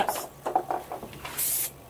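A spray nozzle used during a carpeting job gives two short hissing bursts, the second longer and stronger, with faint knocks and rustles in between.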